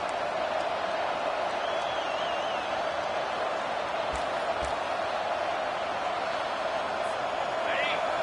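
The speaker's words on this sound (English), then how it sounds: "with this place rocking, the crowd forces a false start" Football stadium crowd at Washington at Oklahoma roaring in a steady, dense wall of noise, loud and sustained throughout, with a commentator's voice faintly over it.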